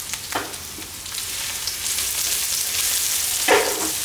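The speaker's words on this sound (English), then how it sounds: "Stir fry the pork belly here." Pork belly is stir-fried in a wok with garlic and ginger, making a continuous hissing sizzle with two distinct scraping strokes of the spatula, one early and one near the end.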